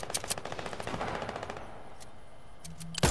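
Rapid automatic gunfire in Fortnite, a fast even burst of shots up close for about a second and a half, then a few scattered single shots and a sharp closing bang.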